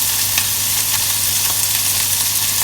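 Onion sizzles in a hot pan, a steady close crackling hiss with faint stirring, and no voices.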